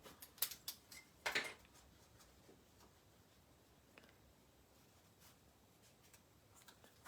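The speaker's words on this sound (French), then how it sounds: "Je vais couper mon petit ruban." Small ribbon scissors snip a short piece of ribbon at a crafting table, giving a few faint, quick clicks and cuts early on, then quiet room tone.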